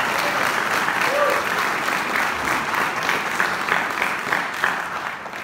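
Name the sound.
applause for the Lord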